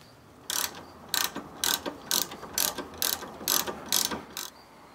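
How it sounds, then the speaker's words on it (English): A ratchet with a 3/4 socket turns a bolt on a Jeep disc brake, clicking in eight or nine quick, evenly spaced bursts at close range with no talking. "Take a 3/4 socket, put a bolt in the bottom."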